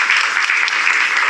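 Studio audience applause on a Macedonian TV quiz show, a dense, loud, continuous burst of many hands clapping together with no break.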